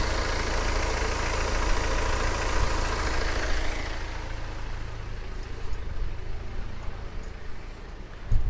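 A BMW 320d M Sport diesel engine idling, a steady low rumble heard up close throughout, with no voices over it.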